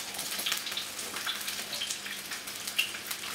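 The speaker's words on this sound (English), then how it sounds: "give those a stir" A lamb shank and butterbean cassoulet is stirred in a pan with a soft, steady sizzle and a few light scraping clicks, fairly quiet and with no voices.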